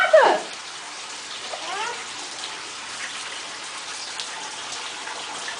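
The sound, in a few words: water running and splashing in a bathtub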